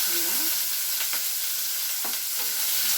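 Onions sizzling in hot oil on a stove, a steady broadband frying hiss filling the background with a few brief clinks and stirring scrapes, with no talk.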